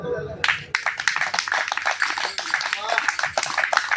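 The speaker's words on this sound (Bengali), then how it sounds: "দেখি করতালি দেন" An audience at a devotional kirtan claps their hands, sharp clustered claps in an uneven rhythm, with voices mixed in among them.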